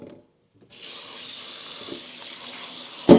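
Tap water runs steadily into a large pot being filled to boil sweet potatoes, a continuous close splashing hiss that starts after a short quiet pause and ends with a sharp clunk.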